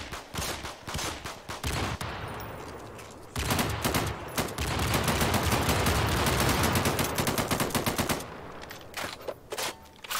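Rapid automatic gunfire from skeet shooting in a video game rattles in long, dense bursts. The shots are fairly quiet overall, with a short pause near two seconds and sparser shots at the start and end.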